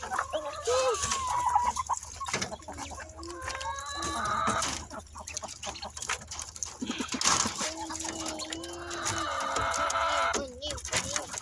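Hens cluck repeatedly nearby in short bursts, with some chatter from the flock and occasional background voices.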